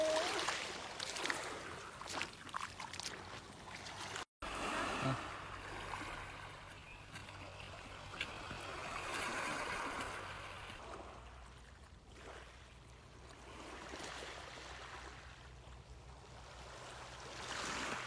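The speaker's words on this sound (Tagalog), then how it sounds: "Wow, ang ganda ng dagat." Sea waves wash against the shore in a steady broadband roar with slow swells of surf, steady and moderately near, with wind mixed in and no talk.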